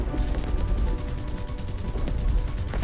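War Thunder aircraft guns firing from a BTD-1 in an Air RB match: a continuous, evenly paced rapid stream of shots rattling steadily over a deep engine drone for the whole stretch.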